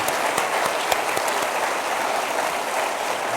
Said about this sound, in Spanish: Den un aplauso al Señor, Él merece.